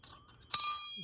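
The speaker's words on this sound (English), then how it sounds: "that is an antique bell. That is an old schoolhouse bell." An antique schoolhouse teacher's bell gives a single bright ding, a sharp metallic strike followed by a long, clear ringing decay, close and fairly loud after near silence.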